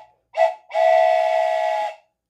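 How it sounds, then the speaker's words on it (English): Steam whistle on a moving freight train hauled by a black steam engine and tender: a short loud toot, then a longer sustained blast, clear and close with no talk. "Freight train moving."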